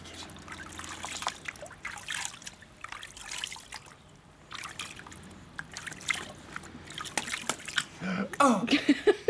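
Water sprays and trickles in short splashy bursts close by, uneven and intermittent, while voices talk and exclaim over it, louder splashing near the end.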